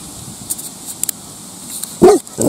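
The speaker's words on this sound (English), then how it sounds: "you just got to get used to all these doggies coming on" A dog gives a couple of short, sharp barks near the end after scattered small knocks and movement sounds, close and fairly loud against a quiet room.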